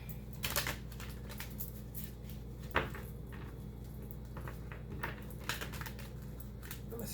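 Tarot cards being shuffled by hand, a steady run of soft, papery riffles and taps with a few sharper knocks, close and continuous with no talking.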